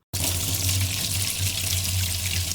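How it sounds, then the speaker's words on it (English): Hot water gushes from a kitchen tap into the sink in a loud, steady, close splashing stream that starts abruptly and keeps running without a break. "She started running the hot water in the kitchen sink and grabbed a bowl."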